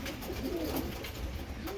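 Pigeons coo softly and continuously in a loft, low throaty calls under a hissy, fairly quiet background.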